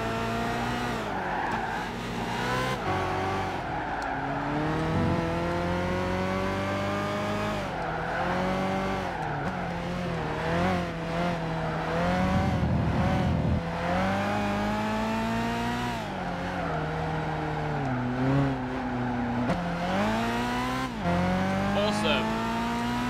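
A race car in Gran Turismo 5 revs hard, its engine whine climbing and dropping through gear changes, with bursts of tire squeal as it corners, loud and continuous throughout.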